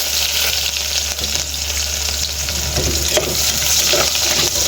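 Onion, garlic and ginger sizzle in hot cooking oil for squid adobo, a loud, continuous frying hiss with occasional crackles and stirring scrapes throughout.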